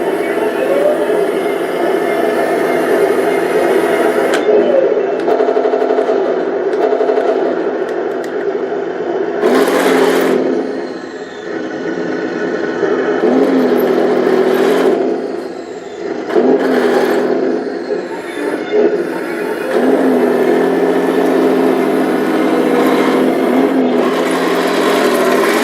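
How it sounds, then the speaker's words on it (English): An RC Tamiya 770S tank transporter's simulated engine sound starts up and runs with a loud, steady, high-pitched electronic whir, interrupted by a few brief gaps and bursts of scraping and clicking. "so it looks like that gives me the engine start"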